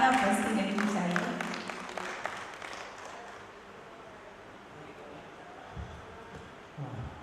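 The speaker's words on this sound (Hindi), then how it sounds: "तालियां बजती रहनी चाहिए।" An audience at a Gandhi Smaran seminar in Audrey House claps in a dense burst that fades away after a few seconds.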